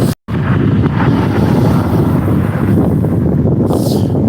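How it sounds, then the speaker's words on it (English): Heavy wind buffeting the microphone, a constant roaring rumble with a brief dropout near the start. "It's windy as fuck."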